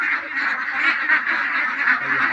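Ducks kept indoors give a dense, steady chorus of overlapping quacks and nasal calls that runs the whole time at close range, with no pauses and no talk.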